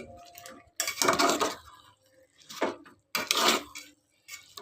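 Biryani is mixed by hand in a metal pot, giving several close clattering, scraping bursts of pot and utensil noise separated by short pauses.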